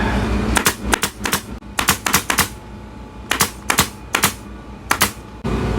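Staple gun firing staples into gym pad upholstery, sharp snapping shots in irregular clusters of two to four, close and loud over a low steady background hum.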